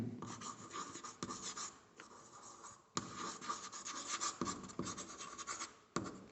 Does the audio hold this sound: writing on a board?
yes